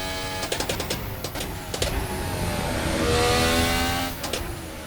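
A Formula 1 car engine from a sim racing game mod screams at high revs, its pitch climbing and dropping through quick gear changes and a sustained rising whine, loud and close with no talking.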